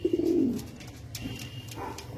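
A pigeon gives a soft, low coo close by, followed by quieter background rustle and faint ambient noise.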